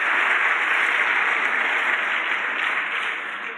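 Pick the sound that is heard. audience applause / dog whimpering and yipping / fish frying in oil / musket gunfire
audience applause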